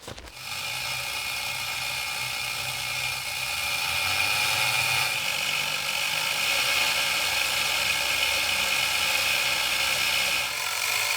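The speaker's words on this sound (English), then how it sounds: "use a rubber wheel on a drill to run the chain and make it go way faster" A power drill fitted with a rubber wheel whirs steadily, driving the chain of a chain hoist with a ratcheting, mechanical chatter, continuous and close for the whole stretch.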